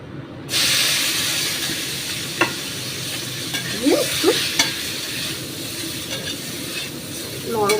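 Flat beans (shim) dropped into hot oil in a pan burst into a loud, close sizzle that holds steady, with intermittent scraping and clinking as they are stirred.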